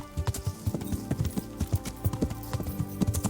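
Horse hooves clip-clopping in the medieval video game Kingdom Come: Deliverance, a steady rhythmic trot of hoof strikes, fairly close and loud, with a continuous background bed and no clear talk.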